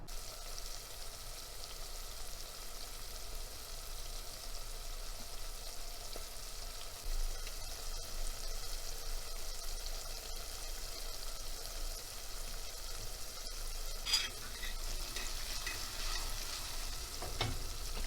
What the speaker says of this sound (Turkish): Soğan ve biber çok güzel sotelendi.